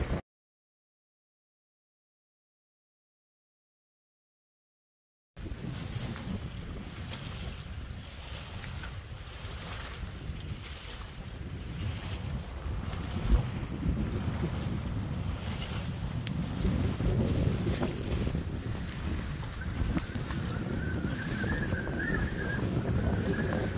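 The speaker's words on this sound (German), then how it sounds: "Es ist windig, ja?" Wind blowing hard across the Sorpesee reservoir lake at Amecke, a steady loud roar and buffeting on the microphone after a few seconds of silence, swelling slightly toward the end with no talk.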